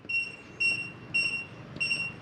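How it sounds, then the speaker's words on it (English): Kwikset SmartCode 914 deadbolt giving four short, evenly spaced electronic beeps after its programming button is pressed, clear tones over a faint room hiss. "It'll beep at you one time."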